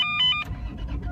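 A car with an R154 gearbox and short shifter cranks briefly, then its engine catches and settles into a low, steady idle close by, with no one talking.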